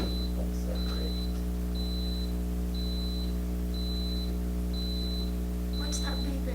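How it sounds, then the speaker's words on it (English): Short electronic beeps repeating at a steady rhythm of about one per second in a meeting room, clear over a constant low electrical hum, with faint talk in the background. "What's that beeping?"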